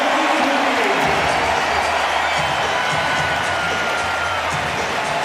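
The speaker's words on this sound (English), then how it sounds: "listen to this crowd and watch it" Basketball arena crowd at a Raptors vs Nuggets game roaring and cheering at the end of the first half, a loud sustained wall of noise from a large audience.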